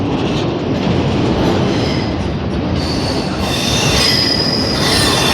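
A Canadian National manifest freight train rolls past close by, its wheels squealing in high metallic tones over a steady loud roar of railcars, with no talk.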